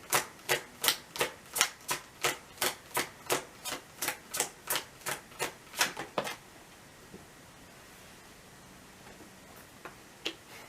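Tarot cards pulled from a deck during a pick-a-card reading, heard as a rapid regular run of about sixteen crisp snapping clicks for six seconds, followed by near silence with a few faint taps.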